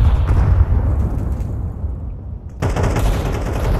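A grenade detonates inside a smoke cloud in an online shooter match, a loud burst of crackling blast noise that dips briefly and then surges again with dense rumbling gunfire-like clatter.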